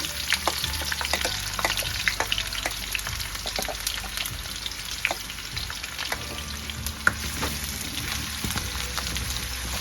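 Olive oil sizzles and spits in a kadai while frying, a steady close crackle with scattered sharp pops and occasional stirring, no voices.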